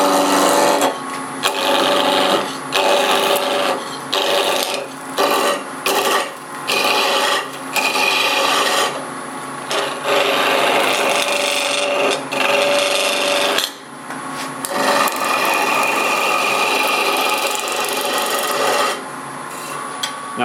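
A wood blank is roughed out on a lathe, the gouge cutting in a steady, loud scraping rasp with frequent brief breaks as the tool lifts and re-engages, continuous through the clip without talk.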